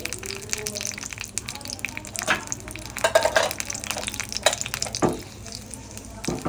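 Husked black gram dal sizzles in a pan, a soft, steady frying hiss broken by scraping stirs and faint clinks, heard fairly quietly and close.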